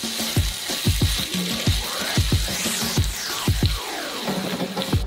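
Egg noodles and sauce stirred in a hot wok, with steady sizzling and frying under repeated scraping strokes of a utensil against the pan, close and fairly loud with no talking.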